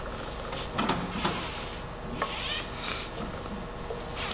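A barbell being wiped down after cleaning gives a close, continuous rubbing and scuffing with irregular strokes and small bumps, and no talk.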